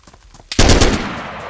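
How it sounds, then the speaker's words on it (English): A loud burst of automatic gunfire in the survival video game DayZ erupts after a quiet stretch, a rapid run of shots that then rings and decays. "Oh, he's shooting at me."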